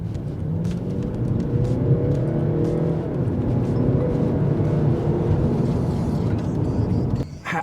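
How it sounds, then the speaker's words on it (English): BMW 3 Series Gran Limousine or Mercedes-Benz C-Class diesel car engine accelerating hard, a loud rising drone through several gear changes, close and continuous, dropping off abruptly at the end. "And this great sound from a diesel."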